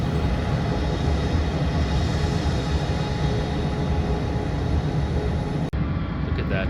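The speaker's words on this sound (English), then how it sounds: "Aircraft just pushed out of the gate and just taxiing out already, leaving." A United Airlines jet taxis out after pushback from the gate on a hot, sunny day, its engines a loud, steady, close roar that holds throughout before cutting off abruptly near the end.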